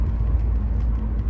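An Opel Zafira Cosmo pack accelerating gently on a town street, heard from inside as a steady low engine and road rumble.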